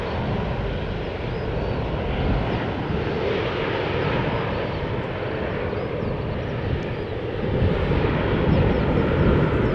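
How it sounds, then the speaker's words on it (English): A KLM Cityhopper airliner arriving from London City at Schiphol Airport gives a steady, loud jet roar that holds evenly throughout and swells slightly toward the end. "This is KLM 986, a city hopper arriving from London City."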